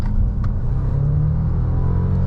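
A Mercedes GLC 300e accelerates uphill with a steady, close low engine and road rumble that rises slightly in pitch over a couple of seconds.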